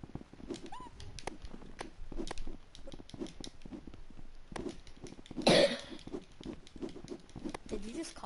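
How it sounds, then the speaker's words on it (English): A single sharp cough bursts out over a voice chat during a Rec Room parkour game, briefly louder than the ongoing chatter and light tapping around it. "Did you just cough?"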